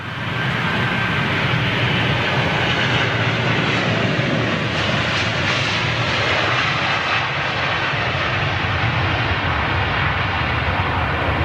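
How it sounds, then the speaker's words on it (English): A jet airliner with Rolls-Royce Trent 700 engines departs Heathrow with a loud, sustained roar that holds steady throughout. "Yeah, still those Trent 7s making a proper racket."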